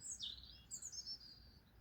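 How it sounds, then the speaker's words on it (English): Small birds sing in a spring garden with a tiny pond fountain, a few quick high chirping phrases, fairly faint and somewhat distant against a quiet background. "And can you hear the birds in the background singing?"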